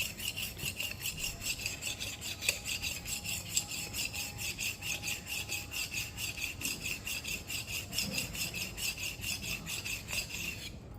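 A tulsi wood bead rubbed against an abrasive at about a 30 to 35 degree angle to sharpen it, making steady, rhythmic back-and-forth rasping strokes close by, with no talking.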